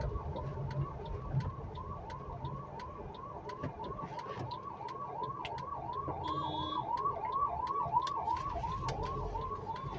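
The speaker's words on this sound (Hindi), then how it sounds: "ये देखिए 2 कार की स्पेस बना दी हमने ताकि वो एम्बुलेंस निकल सके" An ambulance siren wails continuously in busy city traffic, its repeating rising-falling sweeps loud and close, with engine and road noise underneath and a brief horn-like tone midway.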